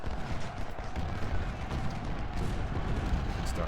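Continuous dense gunfire and artillery rumble from a Civil War battle at Fredericksburg in the Ultimate General: Civil War strategy game, a steady loud wash of overlapping shots and booms with no pauses.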